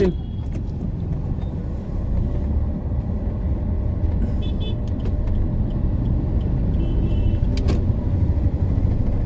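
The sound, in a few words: road traffic, cars driving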